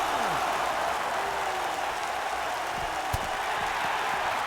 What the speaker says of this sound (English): The crowd is loving this.